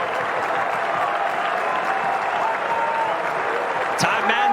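Dense, steady roar of a large baseball crowd at the Dish during a South Florida vs Texas game, continuous cheering and clapping across the whole stretch with a sharp clap-like crack near the end.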